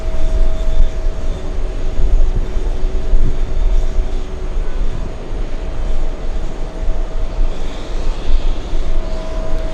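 Boeing 747 jet on runway 22 right, a steady loud broadband engine roar that fills the whole stretch without letup.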